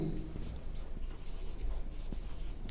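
Pen writing an accounting entry, soft continuous scratching across the page close by, faint against steady room noise.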